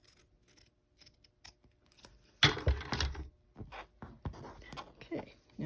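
Scissors trim fabric pieces for a child's backpack made of Levi denim and cotton, giving a few quiet, scattered snips close by followed by a louder burst of cutting and rustling.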